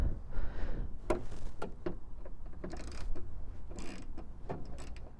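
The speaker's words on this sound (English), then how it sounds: "I've just unscrewed all the bolts from this headlight" A ratchet works the headlight bolts on a BMW Z4, making a close, uneven run of mechanical clicks and creaky turning sounds. There is no talking.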